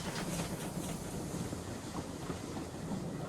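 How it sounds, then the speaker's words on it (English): Toy engine Castle running along the rails with a steady rattling clatter of wheels and wagons, a continuous rumbling clickety-clack that carries on without pause and is not clearly broken by any derailment. "Castle has come off the rails."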